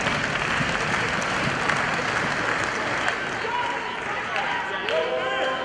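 A capacity crowd at a live wrestling main event cheers and applauds steadily throughout, a dense, loud roar of the audience with a commentator's voice talking over it.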